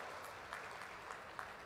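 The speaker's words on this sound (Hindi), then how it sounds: "एक बार जोरदार तालियों से माननीय भाई साहब का स्वागत और अभिनंदन" Faint, steady applause from a crowd at a political rally as a guest is welcomed, a soft wash of clapping with a few slightly louder bursts and no voices over it.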